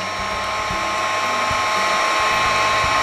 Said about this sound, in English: it takes this chalk paste no time to dry, and especially if you're using the heat gun